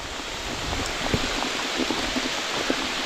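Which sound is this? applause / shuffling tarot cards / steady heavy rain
steady heavy rain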